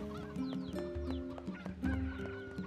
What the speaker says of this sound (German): Sind auf jeden Fall Hühner.